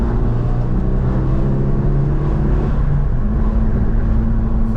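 A Suzuki Swift just back from a service pulls away on a drive, its engine a steady loud droning hum from inside the cabin, with no talk over it.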